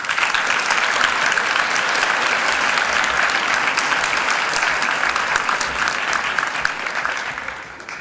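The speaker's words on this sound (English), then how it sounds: "I think Alex deserves another round of applause." A large audience claps steadily at a high school Class of 2025 commencement ceremony. The dense applause is loud and even, with no voices, and tapers off near the end.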